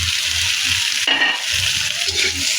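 Meat for bopis hisses and spits in a hot pan with garlic and onion, a loud, steady close-up sizzle that briefly changes as the mixture is stirred.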